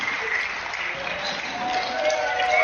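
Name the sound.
studio audience applause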